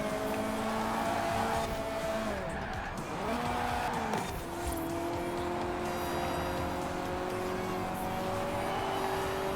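Cars racing in Forza Horizon 4, engines droning with shifting pitch as they accelerate, with tyre squeal and skidding through corners, steady and continuous throughout.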